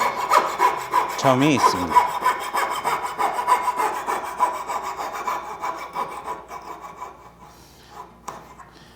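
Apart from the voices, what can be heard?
coping saw cutting a curve in wood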